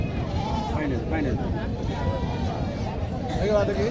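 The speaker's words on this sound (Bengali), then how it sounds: "ছাগলগুলো একটু ভালো করে দেখার চেষ্টা করবেন" Goats bleat repeatedly at the Mataji livestock market in Naogaon, wavering calls rising over a constant crowd murmur and nearby chatter.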